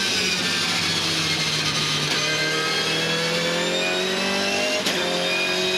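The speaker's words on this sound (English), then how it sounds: "Very distinct engine note of this S60 Volvo run by Gary Rogers' team from Melbourne." A 2014 Volvo S60 V8 Supercar races on track at the Tasmania 400, its engine note loud and sustained, holding steady and then climbing in pitch with no one talking.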